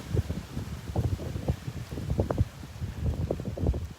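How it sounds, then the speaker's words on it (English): Wind from the north buffeting the microphone on a beach boardwalk at Delnor-Wiggins on a clear morning, coming in irregular low rumbling gusts close to the mic. "Pretty good wind coming from the north."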